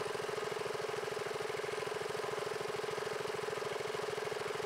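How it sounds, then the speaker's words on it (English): A Daystate air compressor idling down unloaded after refilling an air rifle tank, a steady close mechanical thrum with a fast even pulsing beat and a constant hum, running alone without talk. "A minute to idle down unloaded once you're done probably isn't a bad practice"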